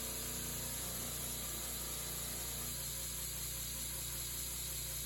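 A power buffer runs steadily on a Damascus katana blade on a cold night, a continuous motor whir with a low hum, even and unbroken throughout.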